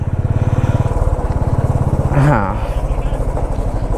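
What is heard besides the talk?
motorcycle engine while parking the bike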